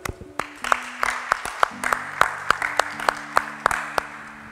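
Applause from a church congregation: steady clapping at a rhythmic beat, with sustained tones from musical accompaniment underneath.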